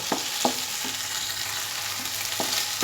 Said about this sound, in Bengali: দু মিনিটের মতো কন্টিনিউ নাড়াচাড়া করে সমস্ত উপকরণ ভালোভাবে ফ্রাই করে নেব